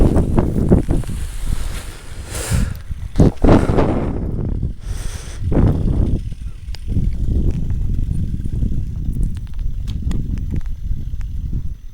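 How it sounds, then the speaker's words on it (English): Strong wind gusts of a gust front ahead of an approaching storm, steady broadband roaring with several louder bursts in the first half, continuous and close to the microphone with no talk. "The gust front comes before the storm."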